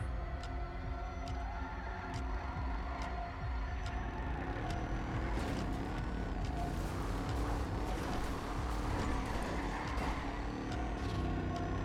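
A car engine in GTA 5 drones steadily close by for the whole stretch, a constant mechanical rumble with occasional sharper clicks, the sound swelling slightly toward the end as the vehicle draws nearer.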